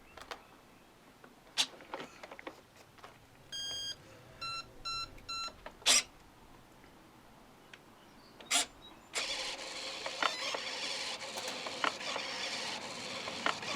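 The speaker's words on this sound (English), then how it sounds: "the last indicator that you're ready to go is the rudder and nose wheel are going to move back and forth" An E-flite Habu STS electric ducted-fan trainer plane powers up with a series of electronic beep tones, followed by short whirring servo sweeps as the rudder and nose wheel move back and forth, then a steady hiss.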